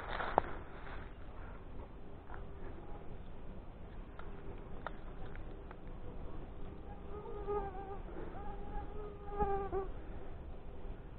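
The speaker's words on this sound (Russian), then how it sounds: "А, чертовы комары!" Mosquitoes buzzing in summer around an abandoned street, a close, persistent whining hum with rising and falling tones that grows more distinct toward the end, over faint background noise.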